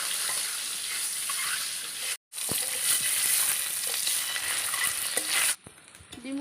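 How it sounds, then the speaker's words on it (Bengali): Eggs seasoned with turmeric and salt fry in oil, giving a loud, steady, crackling sizzle that cuts out briefly once and then drops quieter near the end. "এবার আমি ডিমের মধ্যে সামান্য একটু হলুদ, সামান্য একটু লবণ দিয়ে ডিমটাকে ভেজে নেব।"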